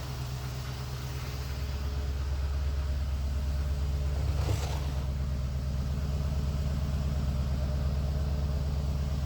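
A Corvette engine idles smoothly after a mass airflow sensor replacement, a steady low rumble that holds at even loudness throughout with no voices.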